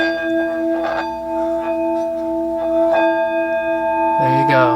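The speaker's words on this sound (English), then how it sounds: "That's the sound that it makes. Isn't that beautiful? Beautiful sound. And that is the singing bowl." A Tibetan singing bowl rings close by with a long, steady metallic hum of layered pure tones, while soft voice sounds come and go and a spoken exclamation rises at the end.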